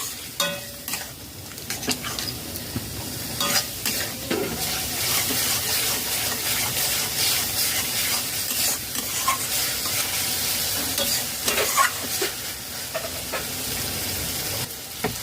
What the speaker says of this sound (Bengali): টক দই দিয়ে দু মিনিট লো ফ্লেমে নাড়াচাড়া করে নিয়েছি